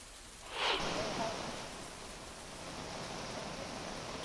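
Heavy, cloudburst-like rain pours down in Sillod taluka of Chhatrapati Sambhajinagar, Maharashtra. A steady, dense hiss swells briefly near the start, then continues unbroken at an even, full level.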